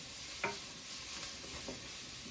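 Peppers and garlic sizzling in a pan for curried eggplant, a steady faint hiss with one brief clink of a utensil near the start.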